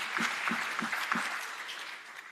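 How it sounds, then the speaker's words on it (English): Applause from an audience at a university higher-education conference, a steady moderate wash of clapping held at even loudness, with a few low thumps early on, fading slightly toward the end. "A round of applause."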